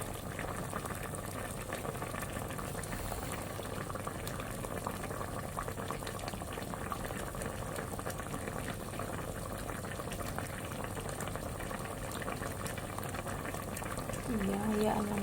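Chicken menudo boiling in a pot, a steady, dense bubbling and simmering that runs unbroken throughout at an even level.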